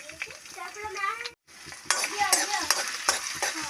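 Chopped onion frying in hot oil in a wok, a steady close sizzle broken by a brief silence, with spatula scrapes and stirring clatter throughout.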